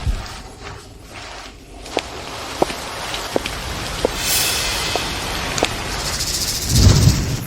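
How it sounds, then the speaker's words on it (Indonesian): Heavy rain falls as a steady, loud wash of noise with scattered sharp drips and taps. A low rumble swells near the end, and nobody speaks. "Hujan deras begini."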